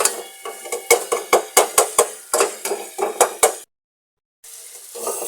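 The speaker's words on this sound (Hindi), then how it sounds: "इसको तकरीबन हमने 4 to 5 मिनट्स के लिए भूनना है ताकि मसाला सा बन जाए" Masala for egg bhurji frying in a pan and stirred with a metal spoon, giving a rapid series of close scraping clinks over a steady sizzle, then a brief dropout before the sizzle resumes.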